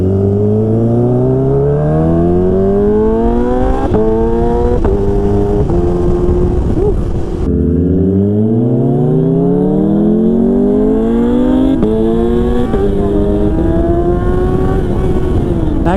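A supercharged Kawasaki Ninja H2 motorcycle accelerates hard through several quick-shifted gears, its engine note rising and dropping in repeated sweeps, loud and close, with no talking.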